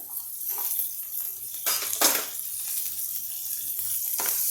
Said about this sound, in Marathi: थोडासा कांदा आपल्याला लालसर करायचा आहे